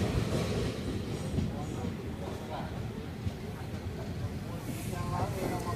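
The Simhadri Express rolls into platform 3 at Eluru station, a steady low rumble of wheels and carriages heard from on board, with muffled background voices.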